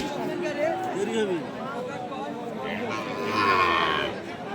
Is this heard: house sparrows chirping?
no